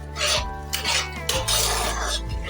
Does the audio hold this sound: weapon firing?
no